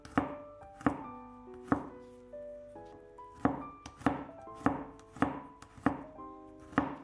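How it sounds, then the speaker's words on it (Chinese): A kitchen knife chops scallion and garlic on a cutting board, about nine crisp, evenly spaced strikes, each followed by a short ringing tap, close and clear with no talking. "接下来准备半截大葱，给它切成葱花， 几瓣大蒜给它切碎"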